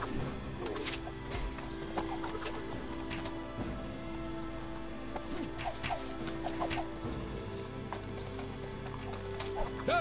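Horses in the strategy game Imperium III gallop with steady, dense clip-clop hoofbeats for the whole stretch, mixed with neighs and whinnies, loud and continuous with no talking.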